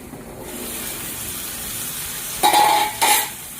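Soybean chunks frying with spices in a pan: a low, steady sizzling hiss, then two louder bursts of crackle and stirring near the end, with no talking.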